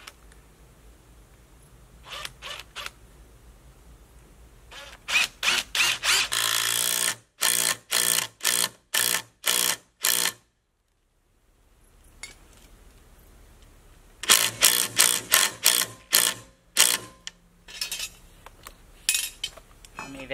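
Screw driven into a wooden sill beam with a power drill during house sill replacement: repeated bursts of short, loud whirring pulses, a pause of silence midway, then another run of rapid pulses, close and alone.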